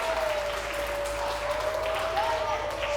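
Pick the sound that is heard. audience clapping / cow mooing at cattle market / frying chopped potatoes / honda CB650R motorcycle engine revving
audience clapping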